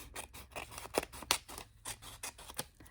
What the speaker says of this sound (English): I'm going to cut this extra bit off here